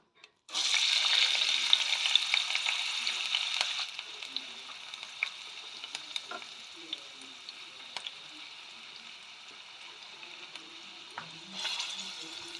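Chopped onion pieces hit hot oil for a dried-fish curry, bursting into a loud, dense sizzle that eases after a few seconds into a steady, quieter crackle with occasional pops, then swells again near the end.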